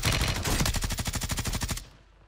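Gunfire in Warzone 3: a close, loud burst of about fifteen rapid, evenly spaced shots that cuts off abruptly and leaves a fading tail of quiet.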